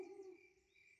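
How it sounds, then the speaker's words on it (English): A cartoon girl owl gives a single soft hoot, a short faint tone that fades within a second. "It's a girl owl."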